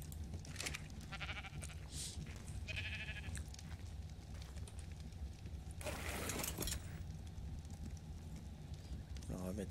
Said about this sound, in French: Alors, on va mettre les moutons comme ça.